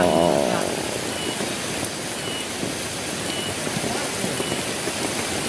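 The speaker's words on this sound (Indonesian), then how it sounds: "Oh, hujan badag deui." Heavy rain pours steadily outdoors while land is being cleared for fishing, making a dense, even hiss throughout with a louder burst at the very start and no clear voices.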